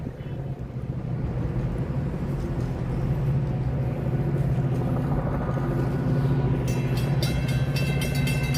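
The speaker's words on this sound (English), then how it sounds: "Sounds like another metro train's about to come through." A Chicago metro train rumbles past on the Near West Side, a steady low roar with rail clatter swelling from a nearby approach and holding loud and continuous, joined near the end by a high squeal.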